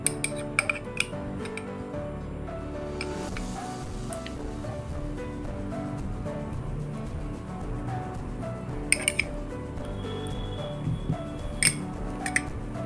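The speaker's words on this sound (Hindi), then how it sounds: "अब इसको गिलास ले लेती हूँ। अब इसमें डाल देंगे कटा हुआ आम।" Chopped mango pieces dropped into a drinking glass for a sabudana mango sharbat, giving light glassy clinks and taps, a few sharp ones near the start and a cluster later, over a steady low room background.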